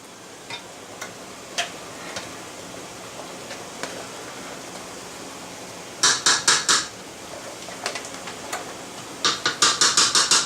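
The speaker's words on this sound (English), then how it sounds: "I'm going to take a spatula and I'm going to take all my sauce out" A spatula scrapes Asiago cheese sauce out of a pot set over a double boiler, giving two bursts of quick metallic scrapes and clanks amid scattered lighter ticks.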